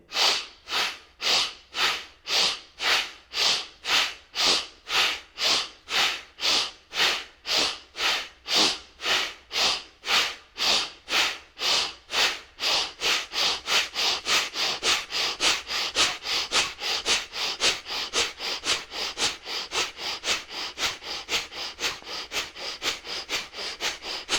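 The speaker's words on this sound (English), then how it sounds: "increase the pace of this inhalation and exhalation forcefully using my abdominals" Kapalbhati pranayama breathing driven by the abdominal muscles: forceful, sharp nasal exhalations in a steady rhythm of about one per second, then quickening to a faster, continuous pace, close and alone with no talking.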